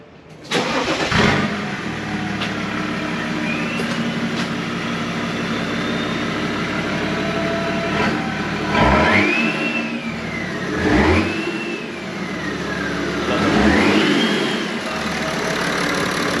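A BMW E90 335d diesel engine cranks and catches, then idles roughly before being revved three times, each rev rising and falling, loud and close with no talking.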